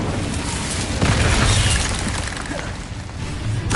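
An Incendio fire spell in the video game Hogwarts Legacy bursts with a loud roaring blast and crackling rush that swells and lingers, close and continuous without talk.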